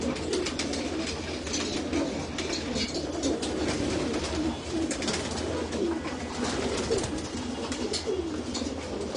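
Pigeons in a home loft coo repeatedly while eating their feed, soft rolling calls recurring over a thick, unbroken background of flock noise and scuffling.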